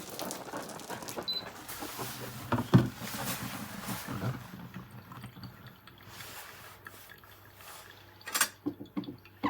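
Water and vinegar boil inside a kettle, making a faint, close bubbling rumble with a few louder gurgles and pops scattered over roughly ten seconds.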